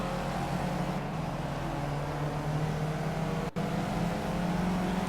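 Caterham race car engine in Project Cars, a steady loud drone with a low harmonic hum holding near-constant pitch throughout, with one very brief dropout partway through.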